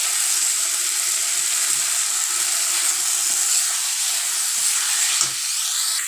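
Spices for an omelette curry frying in a pan: a steady, close, even sizzle that carries on unbroken, with no talk.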